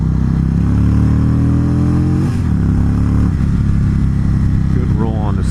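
An Indian Chief Classic motorcycle pulls hard in second gear on a freeway. The engine note is loud, close and continuous, its pitch climbing steadily as it accelerates, with a brief dip midway and wind rush throughout.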